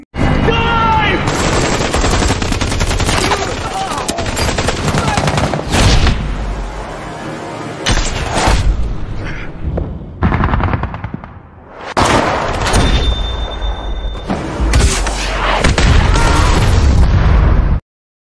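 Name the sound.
gunfire and explosions destroying enemy vehicle in a film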